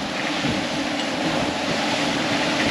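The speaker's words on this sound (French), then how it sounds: "Et je commence à en avoir vraiment marre de ces 30 nœuds de vent là." Strong, steady 30-knot wind roaring at sea aboard a sailboat, with broadband rushing noise, wind buffeting on the microphone and faint water wash, continuous and loud without speech.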